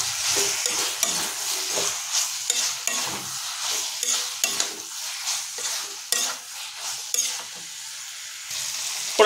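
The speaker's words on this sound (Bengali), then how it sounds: "চিংড়ি মাছ কড়াইয়ের উপরে যোগ করে দিয়েছি, তাই এটাকে আমরা আরও 2 মিনিট ধরে লো ফ্লেমে কষাতে থাকবো।" Prawns cooked over a low flame in a wok with potatoes and pointed gourd: a steady sizzle broken by repeated scraping stirs of a spatula against the pan, close and fairly loud, with no talking.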